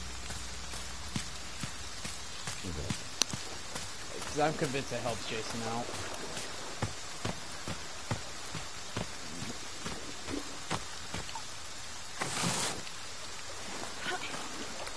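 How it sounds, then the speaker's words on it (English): Steady rain patters throughout a rainy map in the horror game Friday the 13th, a constant wash of drops beneath intermittent talk and footsteps. "I hate these maps when it's raining."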